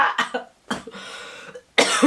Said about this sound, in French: parce que je tousse